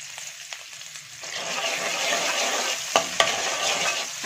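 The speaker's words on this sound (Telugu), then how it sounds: "అల్లం వెల్లుల్లి ముక్కలు బాగా వేగాలన్నమాట" Finely chopped ginger and garlic fry in a few spoonfuls of hot oil, a steady close sizzle that swells in the middle, punctuated by a couple of sharp spatula scrapes and taps against the pan.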